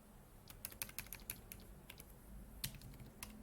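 Quick typing on a computer keyboard, a close, irregular patter of light key clicks over a faint background hum, with no one speaking.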